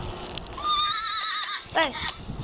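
A horse in a video game lets out a long, clear whinny that rises and trembles, followed by a shorter falling neigh, over faint hoof clip-clops and low game background.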